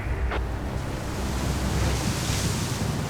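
Dense, steady hiss of heavy rain pouring down on a mountain highway in British Columbia, a broad continuous wash of noise with no pauses, fairly loud and enveloping.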